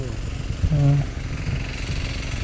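A small farm machine engine on a corn and okra farm starts with a brief loud burst, then settles into a low, pulsing mechanical rumble close by while people talk over it.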